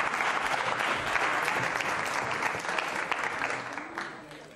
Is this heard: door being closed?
no